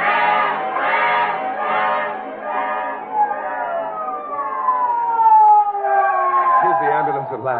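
A wailing ambulance siren sound effect from a radio drama rises and falls in drawn-out, sliding tones, loud and close, with no voices over it.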